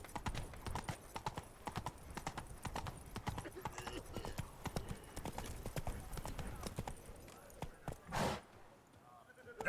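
Hooves of Roach, the horse in The Witcher 3, clop in a quick, steady rhythm throughout, close and clear over a busy game soundscape, with a short louder burst near the end.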